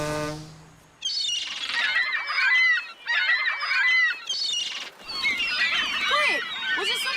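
Seagulls cry in a Thomas & Friends cartoon. A low tonal note opens, then a dense flock calls loudly and almost without break in overlapping squawks, with short dips in between.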